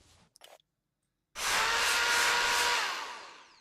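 Vacuum cleaner sound effect in the hunting game theHunter Classic, a loud steady whooshing roar that starts abruptly after a short pause and runs to the end, preceded by brief faint noises.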